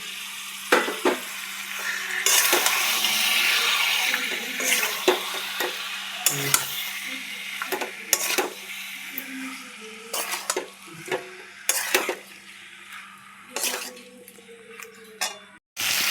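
Boiled chicken sautéed with spices, green chillies and fried onions in a pan, with a continuous sizzle and repeated loud spatula scrapes and clanks against the metal as it is stirred.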